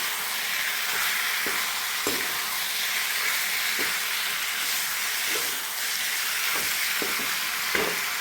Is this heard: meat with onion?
yes